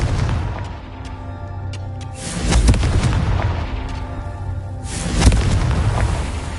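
Two heavy booming blasts from the Confringo fire spell in Hogwarts Legacy erupt a few seconds apart over a low game backdrop, each loud and rumbling before fading.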